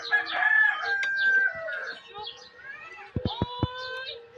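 Rooster crowing and chicken clucks ring out amid background chatter and children's voices, with a few sharp knocks near the end.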